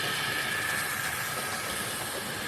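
A Hornby GWR 2800 model steam locomotive, tender-driven version R2464, running steadily with a continuous whirring motor and light rail clatter close up, no voices.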